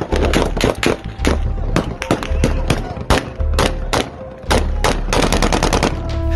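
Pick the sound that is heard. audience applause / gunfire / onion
gunfire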